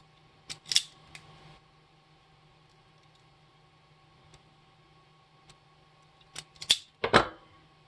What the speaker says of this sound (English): And then strip back a third wire.